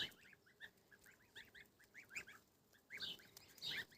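Young goslings trailing around a farmyard give a run of high, repeated honking peeps, several overlapping calls in quick bursts, close and fairly loud, with louder clustered calls near the end.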